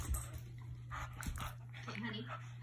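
A mutt scuffles with a Shiloh Shepherd puppy indoors, giving faint barks, whimpers and panting amid a low hum, with people talking nearby.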